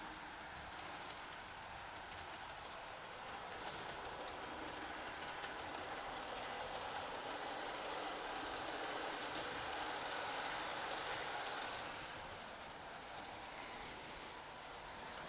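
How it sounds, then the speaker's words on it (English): A model train in a garage layout runs through the bypass lane, giving a faint, steady rolling rumble with light clickety-clack from the track that swells slightly midway and then eases, with no voices. "I'm just going to change the points now so that the train runs through the bypass lane"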